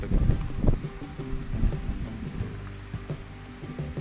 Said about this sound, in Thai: ลมพัดแรงอยู่นะครับ